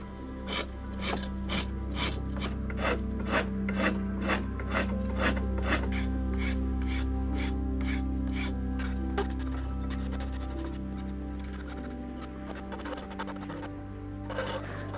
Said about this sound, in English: The sound of me filing on this wood must sound like a bull moose raking